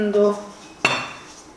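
A utensil scrapes and clinks against a bowl while chicken dough for dog treats is stirred, one brief knock standing out in a short, close burst.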